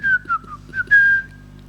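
Someone whistles a short, casual tune up close: a few clear, sliding notes in quick succession, ending on one longer held note, with no talking.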